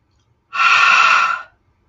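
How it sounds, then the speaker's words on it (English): A breathing exercise: a single long, steady exhale blown out through the mouth, close and loud, lasting about a second, with no talking. "3 quick inhales and 1 long exhale. And we're going to exhale through the mouth"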